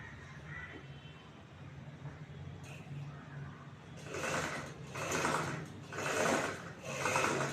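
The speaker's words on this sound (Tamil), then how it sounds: "ஸ்ட்ராங் தையல் போட்டு ஜாயின் பண்ணிக்கலாம்" A sewing machine stitches a blouse neck piece, joining the fabric with a strong seam. After a quieter stretch, the needle runs in several rhythmic, close bursts of rapid mechanical whirring.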